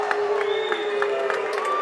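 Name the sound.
basketball crowd reacting loudly after a technical foul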